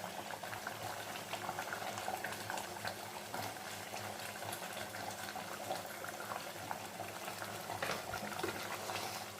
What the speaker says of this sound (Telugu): సన్న మంట మీదే కూర తొందరగా ఉడుకుద్దండి